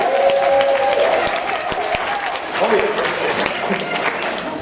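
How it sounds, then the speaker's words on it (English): Applause from a bar crowd for Ted, a steady dense clapping that fills the whole stretch, with a sustained tone and scattered voices mixed in. "Give a round of applause for Ted."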